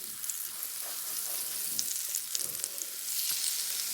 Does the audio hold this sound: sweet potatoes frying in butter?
yes